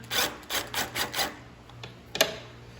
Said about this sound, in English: We're gonna take an 8mm socket to loosen the clamp with an extension